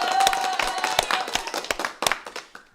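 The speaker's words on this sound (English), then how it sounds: "Yes, more claps." Hands clap at a sixth anniversary live sports show, a small group producing a burst of brisk, irregular claps close by, tapering off over a few seconds.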